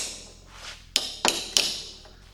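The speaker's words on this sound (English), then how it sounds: "Closest one is a claw hammer." A claw hammer taps a seal into place on a 1950 Willys Jeepster, three sharp, close metallic knocks spaced evenly in quick succession.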